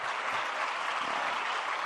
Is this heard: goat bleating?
no